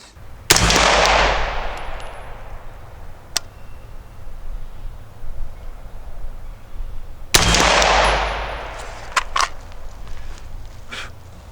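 Custom-built Colt rifle firing outdoors: two loud bursts of rapid shots about seven seconds apart, each ringing out into a long echoing decay, with a few scattered single cracks between them.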